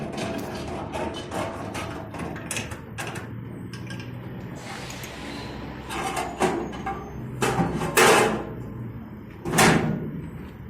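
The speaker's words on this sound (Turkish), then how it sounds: "Aç, diğer kapıyı açalım abi." A pigeon coop door is handled and opened, with a series of thumps, knocks and metallic clatters of varying loudness, close by and irregular, louder bangs toward the end.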